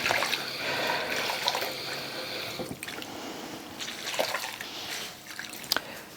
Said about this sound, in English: So I wet the cloth